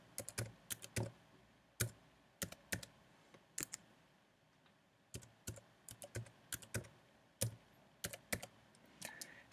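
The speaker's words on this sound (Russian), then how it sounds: "Здесь записываем наш пароль, пишем пароль." Fast irregular keystrokes on a computer keyboard while a password is entered, crisp close clicks in short bursts separated by brief pauses, with no talking.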